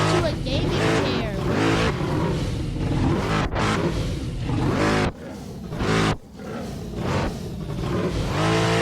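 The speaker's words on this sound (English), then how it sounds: "we thought it would be a good idea to strap a V8 engine to a gaming chair." A V8 engine strapped to a gaming chair revs hard and loud, a thick continuous roar with brief dips as the throttle eases off and comes back on.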